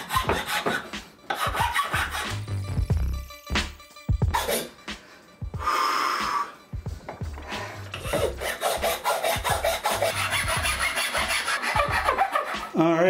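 Wooden pieces of a 30-inch pack frame buck saw being worked and pushed onto the ends of the frame, giving repeated close rasping, rubbing and knocking sounds with short pauses.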